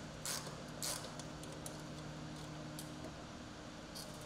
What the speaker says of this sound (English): Continue by pulling the lower fender out of its retention clip in the footrest.